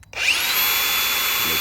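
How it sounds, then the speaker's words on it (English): An angle grinder bites into a Poulan Pro chainsaw, spinning up abruptly and holding a loud, steady high-pitched cutting whine up close. "So at first we start with the angle grinder."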